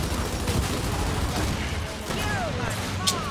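Gunfire in a multiplayer video game team deathmatch, with shots from a bolt-action rifle cracking amid a dense, noisy stretch of battle sounds, sharper reports near the end.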